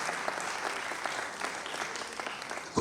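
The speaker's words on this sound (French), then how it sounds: "est-ce qu'on peut faire un tonnerre d'applaudissements pour tous les partenaires qui ont accepté d'accompagner cette 8e édition?" Audience applause at a festival opening ceremony in Pointe-Noire, a moderately distant steady clapping from a crowd that continues evenly, ending with a brief thump.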